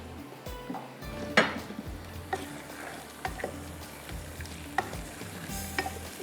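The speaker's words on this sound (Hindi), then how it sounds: "थोड़ा सा ऑयल डालकर इसको फ्राई करते हैं" Peas fry in a little oil in a pan, sizzling softly throughout while a utensil stirs and scrapes with repeated clinks against the metal, close and moderately quiet.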